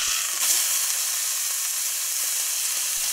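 A piece of meat sears in a hot pan, giving a steady loud sizzle and hiss from start to end with no voices.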